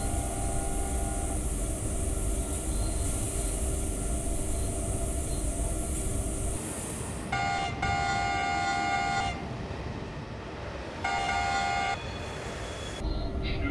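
Two-tone horn of a BR186 Fyra electric locomotive in Train Simulator 2017, sounding in several sharp blasts of varying length over a steady rumbling cab and rail background, with no talk.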